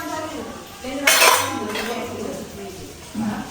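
Steel dishes and utensils clink and clatter as they are handled and wiped, with one sharp metallic crash partway through and a voice speaking over the quieter rattles.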